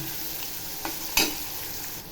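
Onion, garlic and green chili fry in a pan for a fenugreek (methi) vegetable dish, giving a soft, steady sizzle broken by two brief stirring scrapes, the second sharper and louder.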